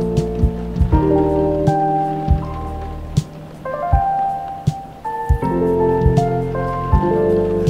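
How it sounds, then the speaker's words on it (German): Rain falling in the cozy café video game Coffee Talk, a steady patter and scattered drips sitting beneath soft tonal game music, with no voices. "Oh, es regnet."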